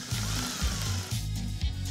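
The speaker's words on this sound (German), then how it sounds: "Jetzt müssen wir hier ein Loch bohren." A small power drill bores a hole into a homemade mechanical toy robot, its motor whirring in short repeated bursts that rise and stop, close and fairly loud with no talk.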